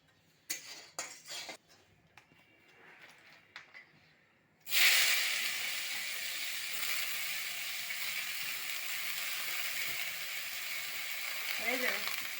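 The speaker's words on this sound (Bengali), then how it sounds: "এখন কেরালা ভাজা করবো।" Bitter gourd (karela) frying in a pan: a few clinks of utensils come first, then a loud, steady, close sizzle starts suddenly and carries on evenly to the end.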